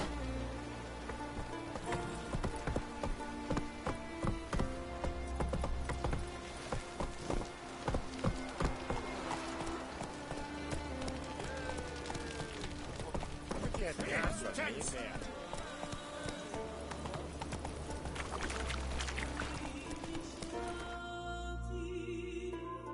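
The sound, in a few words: horse Roach galloping, hooves, in video game The Witcher 3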